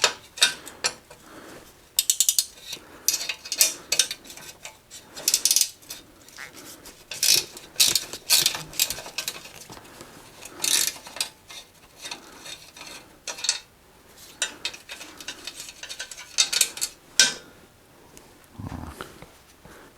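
A ratcheting wrench clicks through rapid bursts on the bolts of a 1987 Mongoose mountain bike, with close, crisp pawl ticks coming in irregular runs and short pauses over about twenty seconds.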